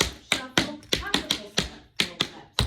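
Tap shoes beat out standard-style tap dance time steps, a quick series of sharp metallic taps in uneven clusters, close and clear, with a voice talking over them.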